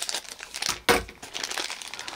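A toy's cheap plastic packaging bag crinkles and rustles close up in handling, with irregular crackles and one sharp loud crunch partway through.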